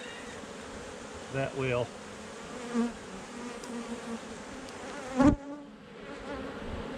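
Honeybees buzz around an open beehive, a steady dense drone that runs throughout, with a few short spoken words and some brief handling knocks over it.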